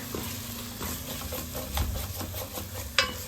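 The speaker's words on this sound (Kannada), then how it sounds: "ಮಸಾಲೆ ಚೆನ್ನಾಗಿ ಫ್ರೈ ಆಗಿದೆ ನೀವು ನೋಡ್ಬೋದು" Ground masala for a crab curry frying in hot oil, a soft steady sizzle with light stirring and a brief utensil clink near the end.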